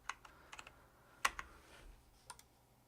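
Computer keyboard keys pressed during a Unity 2D game test, a few scattered sharp clicks with gaps of quiet in between, close and fairly faint.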